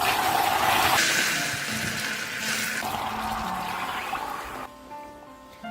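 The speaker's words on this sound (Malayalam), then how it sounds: "ചൂടുവെള്ളമാണ് ഒഴിക്കുന്നത് ഇതിലേക്ക്." Hot water is poured into caramelized sugar in a pan while making fruit cake, giving a steady liquid rush and gush that runs for several seconds, loud at first, then easing and fading toward the end.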